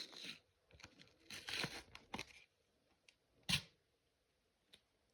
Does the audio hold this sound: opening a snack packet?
yes